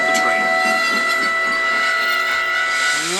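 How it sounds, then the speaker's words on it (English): A steam locomotive whistle sounds in long, sustained tonal blasts over a continuous hiss of steam, fairly close and loud, ending with a falling pitch. "His driver whistled to stop the train."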